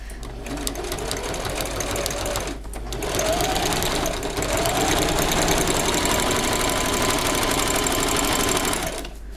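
A sewing machine stitches appliqué onto a cosplay piece, running in a steady, close whirr with a brief pause before it starts again, with no talking.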